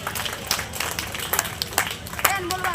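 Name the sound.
audience applause for the martyrs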